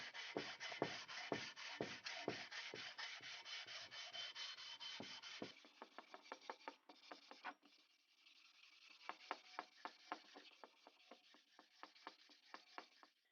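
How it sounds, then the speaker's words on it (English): A sanding block works over a dirt bike engine case, giving steady rasping strokes that shift to a sparser run of sharp, evenly spaced scrapes partway through. It is close and clear, with no talk. "I'm going to try to keep the sanding block moving around the case"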